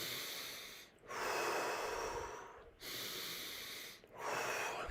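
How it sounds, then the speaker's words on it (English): Deep belly breathing in slow, full cycles: three long, loud, airy breaths with short pauses between, the rhythm quickening slightly, close and alone with no talk. "Keep on breathing. Start speeding up, but keep that deep belly breath."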